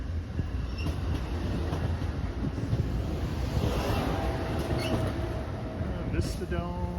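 Amtrak Southwest Chief passenger train with its Heritage Unit locomotive rolling past close by, a steady loud rumble of wheels and cars with wind buffeting the microphone and a brief squeal late on, people talking faintly over it.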